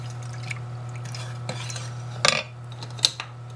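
A spoon stirs cornstarch and cloves in a pot, making light clinks and scrapes against the metal, with a couple of sharper taps near the end over a low steady hum.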